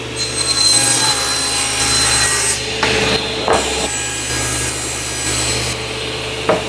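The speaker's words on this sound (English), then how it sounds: "we're going to cut a 16 by 16 inch square using my favorite project panels that I get at Lowe's" A handsaw cuts steadily through a wooden project panel bought at Lowe's, trimming it to a 16 by 16 inch square, with continuous close rasping strokes and a short pause partway through.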